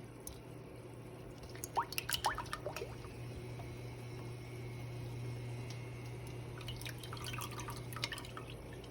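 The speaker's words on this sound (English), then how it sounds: "now it's time to add our heavy cream" Heavy cream poured into a pot for mac and cheese, soft wet drips and splashes in short clusters over a steady low hum, fairly quiet and close.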